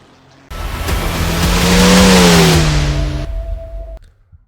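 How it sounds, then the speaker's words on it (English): Ferrari 296 GT3 race car in the iRacing sim at Misano: the engine bursts in loud, climbs and holds a high rev, then drops away and cuts out as a lower tone lingers briefly. "let's start the hot lap."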